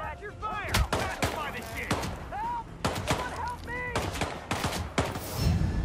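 Gunfire rings out in Hitman World of Assassination, rapid bursts of shots in quick succession, mixed with game voices and other in-game sounds.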